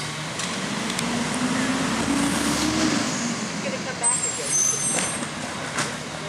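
Miami-Dade County recycling garbage truck grabbing a curbside bin, a steady diesel engine rumble with hissing hydraulics and a few clanks from the arm, nearby, with people talking over it.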